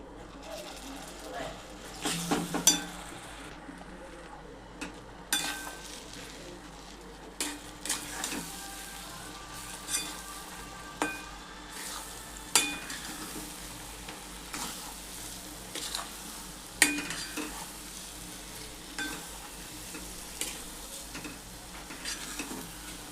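Moong dal filling being stirred and fried in a pan for khasta kachori, giving soft scraping stirs and a low sizzle, with intermittent clinks of the spoon against the pan at an uneven rhythm.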